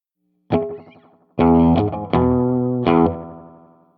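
Electric guitar through a Behringer Vintage Time Machine delay pedal, crisp chords with soft repeating echoes like a spring reverb, four struck chords ringing and decaying, played alone with no talking.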